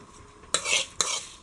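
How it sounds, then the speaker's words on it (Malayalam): A spoon stirs a freshly poured mustard-seed tempering into ripe mango curry, giving short scraping swishes and brief sizzling bursts in three quick strokes, close and clear, with no talking. "കടുക് താളിച്ച് ആഡ് ചെയ്യാം."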